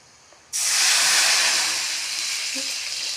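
A sudden loud sizzling hiss bursts out as water is poured into a hot pan while cooking Vidarbha-style shengole, then keeps steaming steadily at a slightly lower level.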